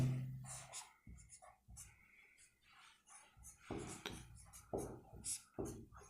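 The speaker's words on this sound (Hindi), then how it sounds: "परिभाषा मैं आपके सामने लिख देता हूं" Chalk or marker writing out a definition on a classroom board during a math lesson, a series of faint scratchy strokes in irregular bursts, quiet and a little distant.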